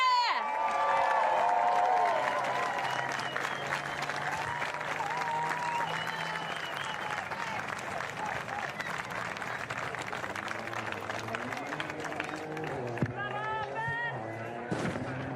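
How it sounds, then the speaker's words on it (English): Crowd cheering and applauding at a post-event show for Rally Finland 2025, a loud burst at the start that settles into dense sustained clapping and crowd noise, with voices mixed in and a few sharp peaks near the end. "Big cheer. 3, 2, 1, cheer!"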